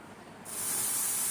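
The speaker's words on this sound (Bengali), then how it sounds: "আলুটা এইভাবে সুন্দরভাবে মুচমুচে করে ভাজা হয়ে গেছে" Turmeric-coated potatoes frying in oil on a low gas flame for a flattened-rice breakfast dish burst into a loud, bright sizzle that starts abruptly and then holds as a constant hiss.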